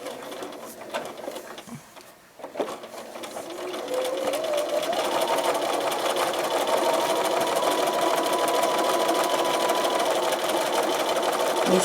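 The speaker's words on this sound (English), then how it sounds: "You stitch across the short end." A sewing machine runs steadily and loudly, stitching across the short end of a fleece scarf after a few seconds of quieter handling noise at the start.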